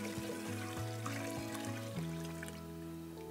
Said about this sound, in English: I'm just gonna pour it all in.